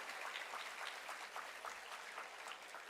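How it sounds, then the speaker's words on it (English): Steady applause from an audience at a school felicitation function honouring meritorious Class XII students, a dense even patter of many hands clapping throughout, moderately distant with no voices over it. "Can we applaud for these children?"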